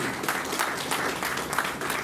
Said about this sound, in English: This deserves a big clap to all my doctors.